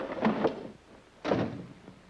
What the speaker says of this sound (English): While you close the door